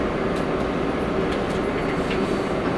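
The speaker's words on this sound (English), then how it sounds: "This is a Manhattan-bound 6th train." An R142A Manhattan-bound 6 subway train running, a steady loud rumble and whine of the railcar in motion, with no speech.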